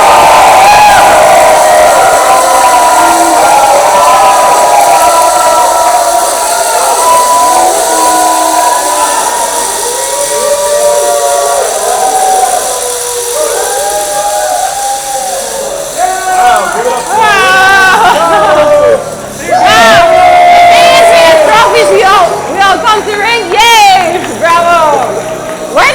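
An audience at a live event cheers and shouts loudly across the whole stretch, a dense and continuous crowd roar with whoops and yells that swell near the end.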